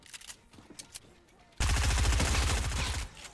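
A loud, near gunshot blast from a sniper rifle in an online shooter game erupts suddenly and rolls on with a dense, sustained rumble for about a second and a half before cutting off; faint game sounds precede it.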